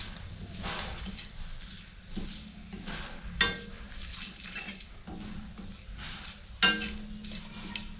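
Bay leaf and dried chillies frying in hot oil in a pan for mutton curry, a soft steady sizzle with occasional sharp clinks of a utensil against the pan.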